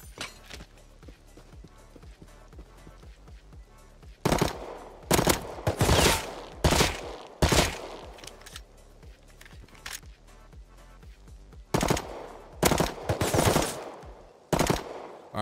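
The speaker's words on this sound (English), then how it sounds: "now I'm just wasting bullets" Automatic rifle fire in the survival game Rust comes in several loud, rapid bursts, sharp and close, separated by short pauses over a quieter bed of game ambience.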